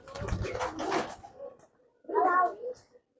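Rajshahi Giribaz pigeons at a pigeon farm give a few low coos close by, broken by short pauses, with people talking over them.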